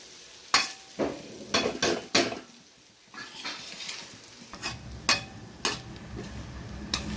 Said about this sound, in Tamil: இன்னும் ஒரு 5 நிமிஷம் இதே மாதிரியே நல்லா கிளறி விட்டுட்டே இருந்தோம்னா புட்டு ரெடி ஆகிடும்